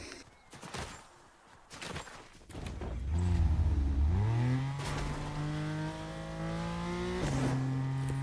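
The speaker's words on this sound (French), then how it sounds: "on va chercher l'autre voiture" A car drives in the Fortnite video game, its engine rising into a loud, steady hum that holds with a slight upward shift in pitch near the end. Sharp bursts come earlier.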